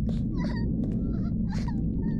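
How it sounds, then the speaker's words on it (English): A creature in a horror video game cries out in short whiny whimpers and high yelps, much like a puppy, over a steady low rumbling drone. "That crying sounds like a whiny puppy."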